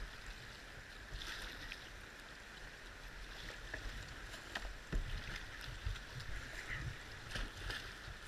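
A kayak ferries across a river current, with faint paddle strokes and splashes over a steady rush of moving water, fairly quiet and without talk.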